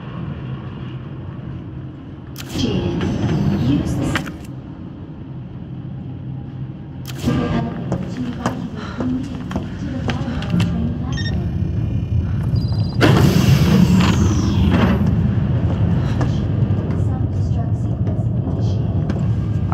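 A train in Resident Evil 2 Remake rumbles steadily along with a continuous low roar, swelling in bursts of louder grinding and mechanical clatter throughout.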